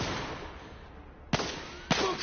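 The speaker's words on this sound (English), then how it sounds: "Smoke grenades." Smoke grenades going off in The Order: 1886: two abrupt, sharp pops about half a second apart over a steady rumbling background, fairly loud and close.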